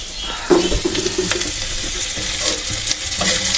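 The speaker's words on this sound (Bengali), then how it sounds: "পেঁয়াজটা নাড়াচাড়া করছি, নাড়াচাড়া করতে করতে তো আমি বাড়তি কাজ করে নিচ্ছি।" Chopped onions frying over a low gas flame give off a steady sizzle while a utensil stirs them, scraping and clinking now and then against the pan.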